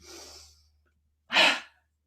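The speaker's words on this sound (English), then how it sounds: "Breathing out through the mouth." Two breaths during a yoga session: a soft exhale, a pause, then a stronger, louder breath out through the mouth, close and alone over a low hum.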